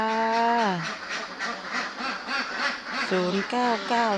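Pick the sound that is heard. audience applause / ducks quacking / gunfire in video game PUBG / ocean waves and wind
ducks quacking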